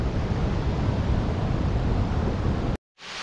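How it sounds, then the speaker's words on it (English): A waterfall pouring down a vertical rock face at a wilderness camping area roars as steady, loud broadband rushing water, then cuts off abruptly and resumes. "A waterfall coming down the vertical rock."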